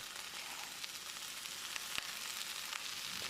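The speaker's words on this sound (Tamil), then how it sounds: "ஸ்டவ்வில் தீயை குறைச்சி வச்சு 1 நிமிஷம் இதை நல்லா வதக்கிடலாம்" Drumstick leaves, mint and coriander sizzle steadily in a hot pan over low heat, a continuous crackling fry with a few soft stirring clicks.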